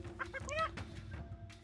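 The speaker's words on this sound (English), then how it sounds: "This is my first time ever seeing this yellow chicken." A yellow chicken in a VR game clucks in a few short, quick bursts, fairly faint and close, with a brief voice murmuring nearby.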